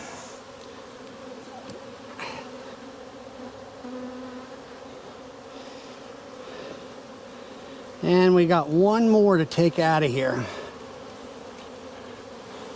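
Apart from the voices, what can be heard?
honey bees buzzing in a hive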